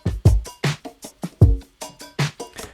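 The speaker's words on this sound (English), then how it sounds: "drums, sound like this." A drum stem from a remix plays on its own: punchy kick and snare hits in a tight, steady groove with crisp transients and short decays.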